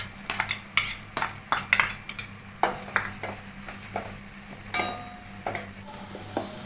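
Chopped onion going into hot oil with fried garlic, a soft sizzle punctuated by a rapid series of sharp metal spatula clinks against the pan, with a few pauses between strokes.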